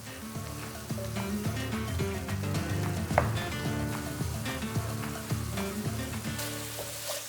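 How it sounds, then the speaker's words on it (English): Onions and mushrooms sauté in olive oil in a skillet over medium heat, a close, steady sizzle with scattered pops and crackles; a background melody plays throughout. "Time to saute the onions and the mushrooms in olive oil until they are tender."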